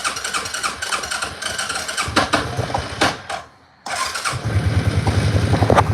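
An ATV four-wheeler, cold-natured and started without choke, cranks and catches, revs briefly, cuts out to near silence for a moment, then restarts and settles into a loud, steady close-up idle.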